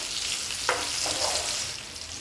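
Potatoes fry in a pan for a breakfast dish, giving a steady close sizzle with a soft scrape of stirring near the start and more stirring movement after, with no voices.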